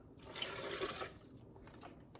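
A cup of water is poured into a blender that already holds a Cara Cara orange, a short, close splashing gush that rushes for about a second, then trails off into faint trickles.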